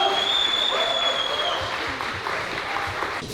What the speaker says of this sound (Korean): 승리하신 러시안 레슬러 선수께 뜨거운 박수 부탁드리겠습니다